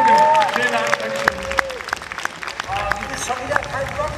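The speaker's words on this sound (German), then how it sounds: "danke für den Applaus" An audience applauds at a live gaming stage show at a convention, the clapping scattered and moderately loud beneath someone speaking German over a microphone.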